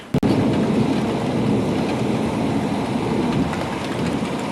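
Deep, continuous rumbling roars on through a violent thunderstorm in Sallanches, loud and broad, with a sharp crack at the start and no voices.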